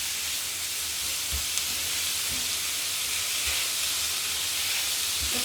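Pork and potatoes fry in a pan, giving a steady, moderately loud sizzling hiss that runs throughout, with a few soft low knocks and no talking.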